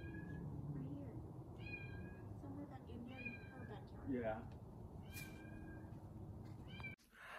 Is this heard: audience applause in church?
no